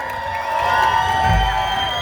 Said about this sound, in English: One more time, big round of applause for Mr. Rick Trevino.